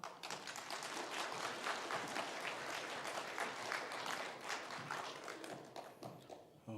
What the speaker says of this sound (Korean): 우리 나오실 때 큰 박수 부탁드리겠습니다.